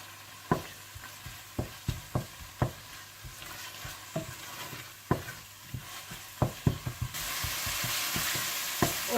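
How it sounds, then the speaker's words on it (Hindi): Frying masala for dal makhani is stirred with julienned ginger, a continuous sizzle punctuated by regular spoon scrapes and knocks against the pan, with the frying hiss swelling louder near the end. "जूलियन कटी हुई अदरक डालकर अच्छी तरह से मिला लें"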